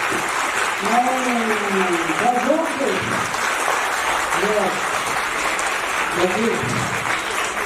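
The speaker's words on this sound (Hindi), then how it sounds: "सब बच्चे एक बार जोरदार ताली बजाएं सभी अतिथियों के लिए।" Loud, sustained applause from about 130 children at a school annual function fills the scene, dense and continuous, with a voice speaking over the clapping.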